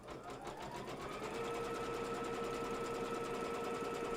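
An embroidery machine stitches down quilt block fabric in the hoop, its rapid, even needle hum starting up and running steadily close by, with no talking.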